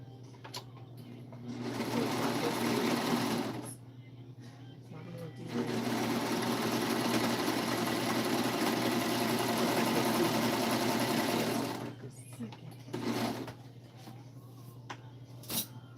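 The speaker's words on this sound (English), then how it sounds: "I can mute while I'm actually serging." A serger sewing machine runs in two sustained bursts, first about two seconds and then about six seconds, with a short third burst, a close steady whirring hum, and a person speaking briefly in the quieter gaps.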